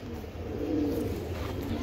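Racing pigeons at a loft coo in a low, steady murmur under a constant hum of background noise, with no voices heard.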